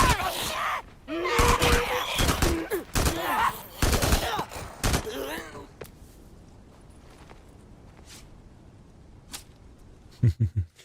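Auto shotgun fire in the video game Days Gone, with several loud, close blasts in quick bursts, then quieter ambience and a few scattered sharp hits near the end.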